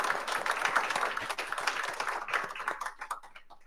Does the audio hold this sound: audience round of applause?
yes